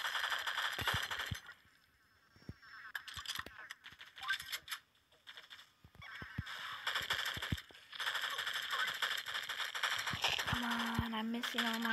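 Disguised Rifle fire in the mobile shooter Pixel Gun 3D: rapid bursts of sharp, clicky synthetic gunshots with game effects and background music, broken by short pauses, while a voice talks over the action.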